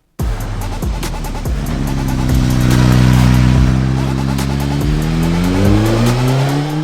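Suzuki GSX-S1000 naked motorcycle with its 999 cc GSX-R K5-derived four-cylinder, revving loudly and close, pitch climbing and shifting through several rises and dips over about seven seconds, no voices.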